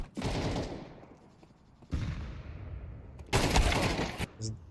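Gunfire during a professional Counter-Strike esports match, with a player using the scout rifle: three loud bursts of rapid shots separated by short lulls, and a faint voice in between.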